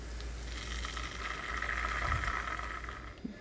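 Ginger garlic paste added to long-sliced onion and chilli in a hot pan gives a steady, close sizzle that swells slightly midway and continues without talk.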